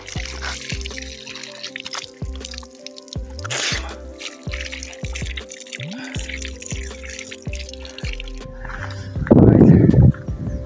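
Water runs from an outdoor spout along a hiking trail near Kathmandu. It is heard as close dripping and trickling, then a louder gush of splashing water near the end.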